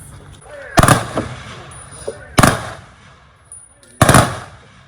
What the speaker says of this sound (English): Be advised there will be loud rifle volleys.